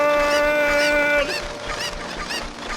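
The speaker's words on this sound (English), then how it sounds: "The chickens are coming, they're everywhere!" Cuccos, the chickens of Zelda: Ocarina of Time, squawk in quick repeated clucks over a held game music tone, the calls stacking into a frantic flock sound at moderate loudness.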